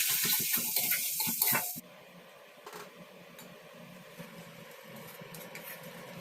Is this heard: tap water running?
yes